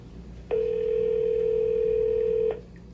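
A telephone dial tone sounds while placing a call: a steady, loud, unbroken tone starts abruptly, holds evenly for about two seconds, then cuts off cleanly over faint background hum.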